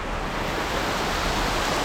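Water rushes through a sluice gate on Khlong Saen Saep in a loud, unbroken roar, steady and dense throughout with no voices.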